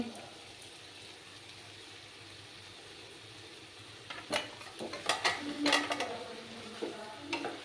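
A coconut and cashew paste with chicken masala is stir-fried in a pan, a quiet low sizzle at first, then several louder scraping and clattering stirs toward the end.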